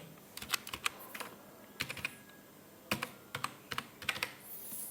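A voter ID card number being typed on a computer keyboard during an online admission form entry: short bursts of close, crisp key clicks in uneven clusters, fairly quiet, with no speech.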